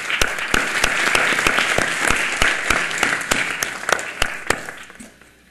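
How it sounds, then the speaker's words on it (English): An audience at a university evening event applauds to welcome special guests, brisk dense clapping with a few sharp individual claps standing out, close and lively, tapering off at the end. "Let's give another warm round of applause and welcome these special guests."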